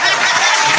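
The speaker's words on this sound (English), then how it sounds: "Okay, let's clap." Broadband clapping and crowd-like noise fill the whole moment steadily rather than as a single sharp hand clap, dense and fairly loud throughout.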